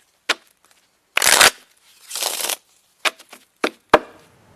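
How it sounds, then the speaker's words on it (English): Playing cards riffle and snap in short bursts, with a couple of longer shuffles among quick taps and clicks, close by with no talking. "it's some cards, shuffling"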